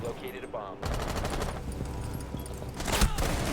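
Rapid automatic gunfire from the video game Rainbow Six Siege rattles in dense, continuous bursts, loud and close, with a heavier burst near the end.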